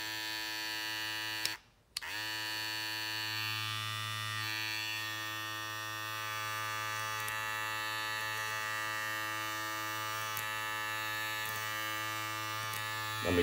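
A Babyliss Gold hair clipper runs close up with a steady, fairly quiet electric buzz and hum, briefly cut off near the start before resuming and holding evenly.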